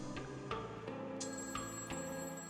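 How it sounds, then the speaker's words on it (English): Telephone ringing in the video game A Summer's End: Hong Kong 1986, a repeating electronic bell ring in several evenly spaced bursts over steady background music. "I heard the phone ring again."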